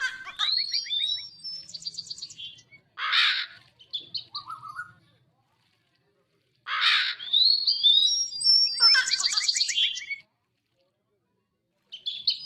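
Crow cawing in a Hindi cartoon, harsh repeated caws mixed with bright chirps and tweets from other birds, loud and close, arriving in two long bursts separated by silence.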